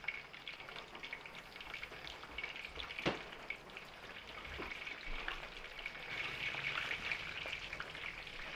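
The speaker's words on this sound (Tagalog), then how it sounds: "Prito po natin tong ating embutido." Embutido sizzles in hot oil in a pan, a steady close crackle with a brief louder pop partway through and the frying growing a little busier toward the end.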